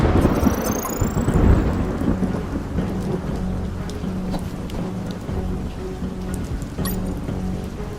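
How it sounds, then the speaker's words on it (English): A heavy rainstorm in a video game, with low rumbling thunder rolling throughout, steady rain hiss filling the background, no voices. "Oh, and there was a storm."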